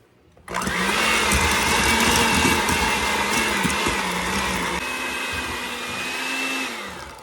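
An electric mixer creams sugar and two blocks of cream cheese for a cherry-topped cheesecake. A loud, steady motor whine starts after a brief quiet moment, and its pitch shifts slightly partway through.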